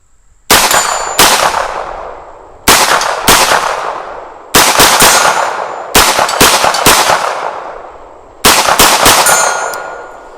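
A UTAS UT9M 9mm pistol-caliber carbine fitted with a muzzle brake fires loud, sharp, ringing shots, some single and some in quick pairs and strings, each followed by a decaying echo.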